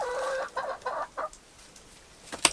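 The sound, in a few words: chickens clucking in a greenhouse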